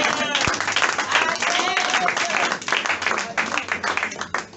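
Church congregation applauding and cheering during a worship service, a dense, steady wash of clapping and voices filling the room for several seconds.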